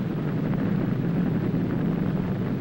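Nuclear bomb blast forming a mushroom cloud, a continuous deep rumbling roar with heavy low-end churn that stays loud and steady throughout, with no voices.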